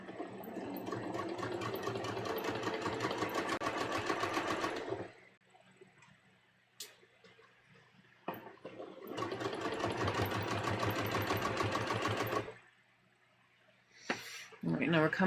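A domestic sewing machine stitches along the front V-neckline of a bias-cut dress, running in two long, steady bursts with a quiet pause and a few soft handling clicks between them; no one talks while it runs.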